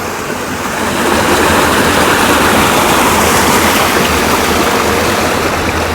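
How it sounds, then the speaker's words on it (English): Tip Toe Falls, a waterfall on a forest hiking trail, rushes with a steady broadband roar, close and loud, swelling slightly in the first second and then holding constant. "Sound of water is getting louder and louder."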